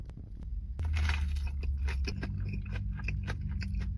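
Crispy, crunchy red peppers and chicken being bitten and chewed close to the mic: one firm bite followed by a run of wet crunching and chomping, with no talking.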